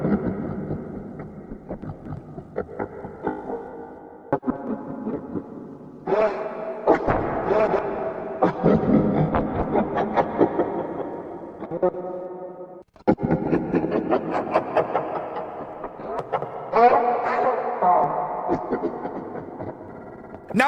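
Revenant Freddy's attack sound cue from a Five Nights at Freddy's fan game: a loud, dense, droning rumble with rattling mechanical layers, swelling in several surges and cutting off briefly near the middle before returning.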